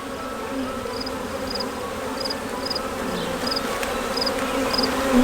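Honey bees swarm around an open hive with a second brood box, making a steady, close, dense buzzing drone that holds at an even level throughout.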